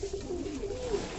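Pigeons feeding from a person's hand give soft, repeated low cooing close by, a gentle murmuring call running through a quiet moment.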